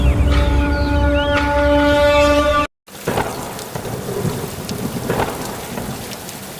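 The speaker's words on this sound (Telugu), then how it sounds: "ఈరోజు నివార రీజన్లో అతి భారీ వర్షాలు పడ్డాయి." Heavy rain pours with rolling thunder in a thunderstorm, loud and dense, briefly cutting out before resuming as steady rainfall with scattered drops and rumbles, no voices.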